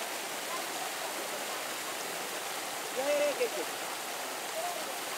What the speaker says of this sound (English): At the bottom, there is a big river flowing towards directions of the tunnel.